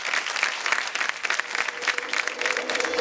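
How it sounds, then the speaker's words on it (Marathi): Audience on a TV game show claps loudly and steadily for a few seconds, a dense burst of applause from a crowd close by. "जोरदार टाळ्या झाल्या पाहिजे सगळ्यांसाठी"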